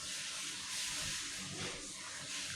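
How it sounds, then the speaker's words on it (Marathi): Semolina roasting in hot oil in a kadhai on a gas stove, a steady loud sizzling hiss that runs unbroken from start to finish with no talking. "हा संपूर्ण रवा मी या तेलामध्ये घालते छान लालसर असा रवा भाजून घ्यायचा आहे"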